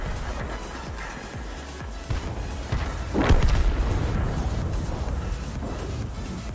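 An enemy tank's ammo rack detonates in the World of Tanks video game: one heavy, booming blast erupts mid-clip over a steady background rumble, then leaves a sustained roar that slowly settles.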